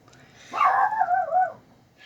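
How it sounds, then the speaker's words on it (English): A single indoor dog lets out a drawn-out, wavering bark that bends into a whine, fairly close and loud, heard alone with a faint sound just after. "And the dog's barking again."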